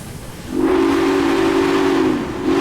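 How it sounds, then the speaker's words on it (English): A steam train whistle in the Railway Empire game sounds one long, loud, steady hooting blast over a hissy background, then briefly drops and starts to sound again at the end. "See, that's a train whistle right there."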